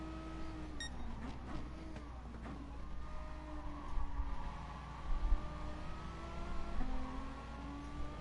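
Race car engine in Gran Turismo Sport, a steady droning whine that rises in pitch and drops at gear shifts, heard fairly faint and continuous with a few small bumps.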